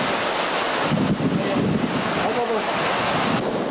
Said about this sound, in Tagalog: Uugong ang hangin at may kasabay na ulan